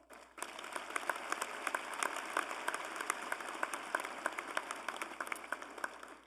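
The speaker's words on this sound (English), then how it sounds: "Let's give the FSCJ Foundation Board of Directors a round of applause." Audience applause at a Florida State College at Jacksonville commencement ceremony, a steady, moderately distant wash of many hands clapping that holds evenly from start to finish with no talk over it.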